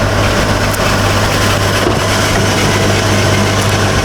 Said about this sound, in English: I can hear that the car's running a little rough.